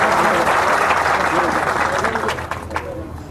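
Applause and clapping from a crowd at a public speech, loud and dense at first, then thinning and fading, with a voice over it.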